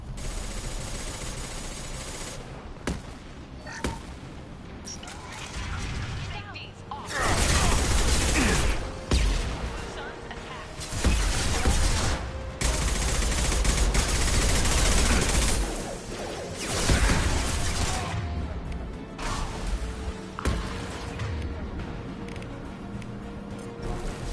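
Sustained bursts of gunfire from a Mass Effect 2 firefight, loud and dense with heavy rapid volleys and booming shots, rising and falling in intensity, with occasional voices under the combat.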